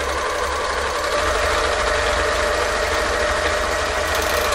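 Serger sewing machine stitching stretch fabric at differential feed setting 4, a steady fast mechanical whir with a low rhythmic thrum, running continuously and close up with no talking.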